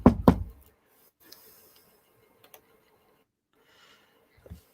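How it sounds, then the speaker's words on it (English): Two sharp knocks on a wooden surface come close together at the start, loud and close, followed by near silence with a few faint small taps and rustles. "knock on wood."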